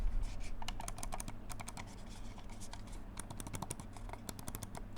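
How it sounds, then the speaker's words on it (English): Light, quiet clicks from an Aula V9 Pro gaming mouse, a rapid scatter of sharp ticks repeating through the stretch over a low steady background hum, close up with no talking. "let's listen to the click sound. How does it click?"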